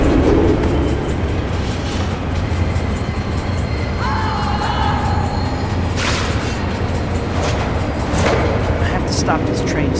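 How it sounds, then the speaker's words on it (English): Subway train car rolling through a tunnel in the Spider-Man 3 PC video game, a steady loud rumble with clattering and brief metallic squeals, with game noises layered over it. "Stop this train somehow."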